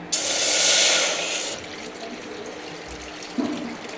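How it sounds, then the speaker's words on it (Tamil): Water pours into a pot in a bright, rushing stream for about a second and a half, then stops; a soft clink of a utensil follows. "ஃபஸ்ட்டு நம்ம ஒரு ஒன்றரை டம்ளர் தண்ணி ஊற்றிக்கலாம்"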